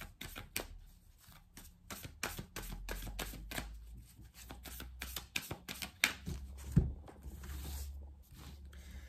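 Starseed Oracle cards being shuffled by hand: rapid crisp riffling bursts with slaps and taps, close and fairly loud, in uneven clusters across the whole stretch, no talk.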